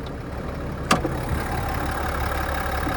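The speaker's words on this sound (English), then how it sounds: "there's that 3-liter turbo diesel inline 6. It's the 1500 DURAMAX there" A Chevrolet Silverado 1500 ZR2's 3.0-litre Duramax turbo diesel inline-six idles steadily up close in the open engine bay, a continuous low rumble with one brief knock near the start.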